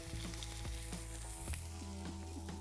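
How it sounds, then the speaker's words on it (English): Lamb sizzling on a hot grill, a steady close hiss and crackle that carries on without a break, with a few soft clinks and pops on top. "if you put a piece of meat or a fish on the grill and you're not hearing a bit of sizzle"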